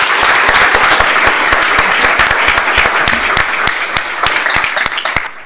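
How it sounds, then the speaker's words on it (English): Audience applause at a school district Board of Education workshop meeting, a steady sustained round of clapping from many hands indoors, loud and continuous, tapering slightly toward the end. "We can give her applause for that."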